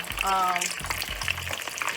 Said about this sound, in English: So I'm going to let these fry